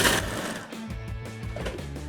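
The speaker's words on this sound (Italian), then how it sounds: "Chiudo e frullo." A kitchen mixer whirs as it blends bread, garlic, anchovies, parsley, grated grana cheese and tomato pulp, a steady motorized drone after a brief louder start, close and moderately quiet.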